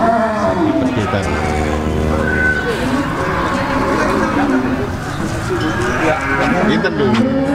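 Cattle lowing at Pasar Sapi Blitar, a cattle market in East Java with Limousin and Simmental bulls, with a long loud moo over a dense crowd of chatter and market bustle.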